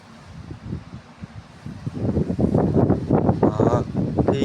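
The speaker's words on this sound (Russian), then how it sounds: "Ребята, у меня ураган." Strong, gusty hurricane-like wind roars across the microphone, building from a lighter rush into loud, sustained buffeting with repeated surges, heard outdoors during a stormy spring day after rain.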